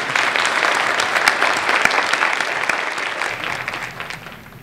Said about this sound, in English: He always gets the most applause.